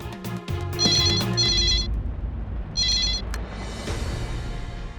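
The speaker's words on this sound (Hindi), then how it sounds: "हाँ शुभंकर, तेरा मोबाइल नहीं लग रहा था, इसलिए लैंडलाइन पर किया।" A landline telephone rings in two loud electronic bursts with a pause between, close by in a quiet indoor room, followed by a soft lingering hiss.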